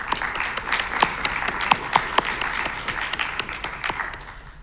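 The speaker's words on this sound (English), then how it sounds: "let's give each other a round of applause." A virtual student government installation ceremony fills with a round of applause, dense steady clapping with scattered sharp individual claps standing out, carrying evenly throughout.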